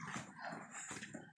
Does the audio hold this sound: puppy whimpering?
yes